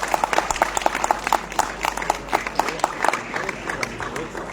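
An audience at a conference hall claps together, a brisk, rhythmic burst of many hands, moderately loud with some crowd murmur mixed in.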